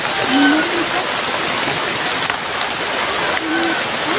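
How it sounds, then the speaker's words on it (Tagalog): Heavy rain pouring down, a dense, continuous hiss with no break, loud and close, with faint brief voices under it. "Grabe ang lakas ng ulan."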